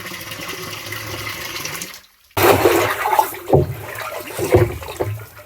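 Liquid pours and splashes into a barrel of water as buttermilk is added, a steady stream broken by a brief pause, then louder gushing and sloshing bursts nearby.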